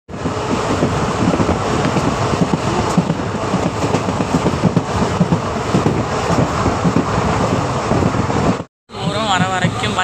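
The Rameswaram TPJ-RMM Express travels between Karaikudi and Ramanathapuram, filling the air with a loud, continuous rumble and rush of wind from the moving coaches. It cuts out briefly near the end.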